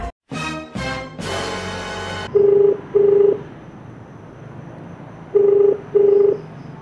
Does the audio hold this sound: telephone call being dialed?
yes